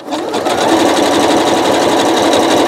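A Janome sewing machine stitches steadily and loudly, a continuous close-up whirring hum that holds level throughout with no talking.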